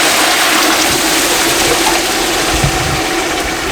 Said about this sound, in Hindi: ये देखें ये वाला पानी डालना है, ये वाला ये यखनी डालनी है।